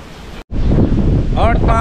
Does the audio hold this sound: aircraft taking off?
no